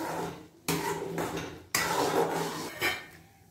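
Roasted semolina being stirred into boiling water in a metal pot for sweet sheera, a few bursts of spoon scraping and clanking against the pan, close and fairly quiet with short pauses.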